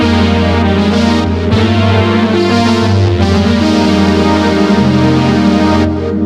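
A dense, loud Polyopolis synth patch on a Roland AX-Edge plays sustained layered chords with shifting tones, rich and continuous throughout.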